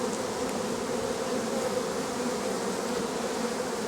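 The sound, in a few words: honey bees buzzing in a hive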